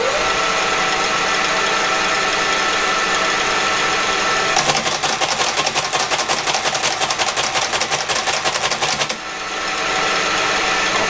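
A Creed 7B Mark 1 teleprinter starts up and runs, a steady loud mechanical hum joined midway by a rapid, even clatter of printing that stops abruptly after a few seconds, leaving the motor running.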